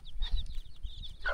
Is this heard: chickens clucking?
yes